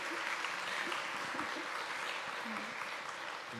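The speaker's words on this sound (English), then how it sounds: "Can you give her a round of applause?" An audience at a sustainable development conference applauds in a sustained, even burst of many hands clapping, with faint voices mixed in.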